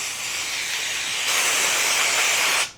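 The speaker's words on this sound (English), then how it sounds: "completely douse it in the filter cleaner" Air filter cleaner sprayed steadily onto a KLR 650 motorcycle air filter, a continuous loud close hiss that swells partway through and then cuts off sharply.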